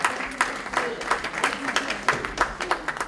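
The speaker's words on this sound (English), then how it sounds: "Please give him a big round of applause." A modest round of clapping greets a keynote speaker at an alumni association dinner, with distinct claps in an irregular rhythm that are fairly close and clear.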